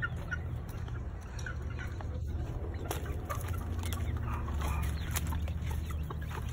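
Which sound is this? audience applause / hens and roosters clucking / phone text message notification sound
hens and roosters clucking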